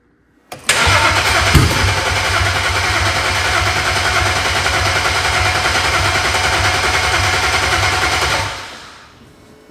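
Flooded BMW 135i engine cranking continuously after years in a junkyard, a loud steady rhythmic starter churn that runs for about eight seconds without catching and then winds down.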